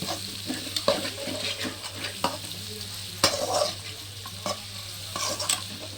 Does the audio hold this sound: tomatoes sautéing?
yes